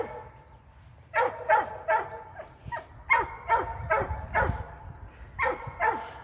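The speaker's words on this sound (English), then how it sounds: "he's going to bark the whole time" A dog barks repeatedly outdoors in a garden setting, a run of loud, close, evenly spaced woofs after a quiet start.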